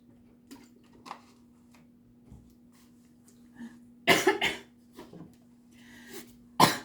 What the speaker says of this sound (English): Too much talking in the summer makes you cough.